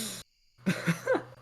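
A single short cough rings out, then breaks off into a brief silence before a few throaty vocal bursts follow over a low background hum.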